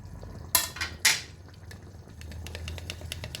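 A metal spoon clinks sharply against a pot twice, then scrapes and stirs softly as spices are mixed into yogurt for a mutton and potato aloo gosht.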